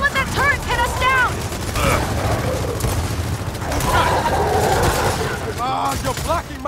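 Turret fire and a firefight in the video game Gears of War 4 sound as bursts of rapid gunfire and mechanical clatter, heard under shouting voices and game speech throughout.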